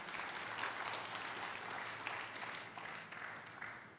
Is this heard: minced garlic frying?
no